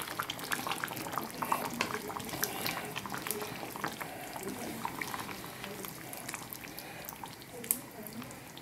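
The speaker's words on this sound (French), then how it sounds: "Et on continue à laisser ça mijoter tranquillement pendant une bonne demi-heure." Beef bourguignon with lardons and mushrooms simmering in a pot, a soft continuous bubbling and popping, fairly faint and close.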